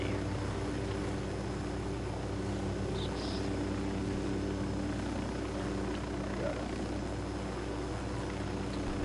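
A helicopter in the game Ghost Recon Wildlands drones steadily throughout, a constant low rotor and engine rumble at moderate level with no pauses.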